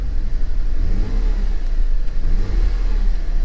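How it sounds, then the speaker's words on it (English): A Rolls-Royce engine blipped with light throttle to around 2,000 RPM, a low, mid-pitched rising and falling rev that swells twice over a steady rumble, close and loud. "I'm gonna give it just a little bit of gas, see how it responds to throttle"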